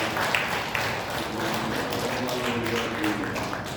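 A congregation claps during a Sunday church service, a steady mass of applause with scattered sharper claps, while a faint voice murmurs underneath.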